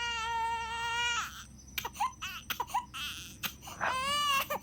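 A child cries outdoors at night in long, high, wailing bursts, with choppy sobbing breaths between the wails and steady background noise underneath, moderately loud and close.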